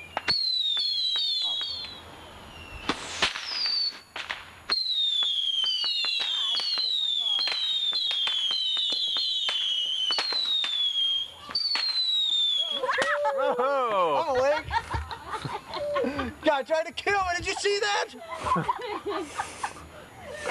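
Fourth of July fireworks whistling upward in rising shrieks, followed by loud pops and crackling bursts, with people laughing and chattering underneath.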